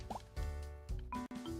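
Water drips from a water main in a video game, making a few hollow, resonant plops spaced unevenly, close and clear over a tonal game soundtrack.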